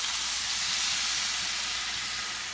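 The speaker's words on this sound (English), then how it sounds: "We're gonna deglaze the pan with our wine, Sauvignon Blanc." Sauvignon Blanc poured into a hot pan used for searing scallops gives a loud, continuous hissing sizzle of steam that carries unbroken throughout.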